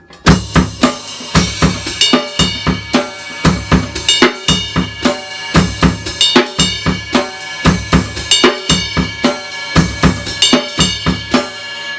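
A drum kit plays a syncopated 4/4 groove with bright ride cymbal bell accents, mixed with kick and snare hits in a steady repeating pattern, close and loud, with no talking.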